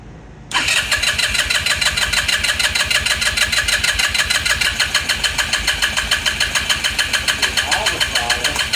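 A Lance Cali Classic 125cc scooter engine cranks continuously after a sudden start, a loud, close, rapid rhythmic churning held steady for about eight seconds without catching.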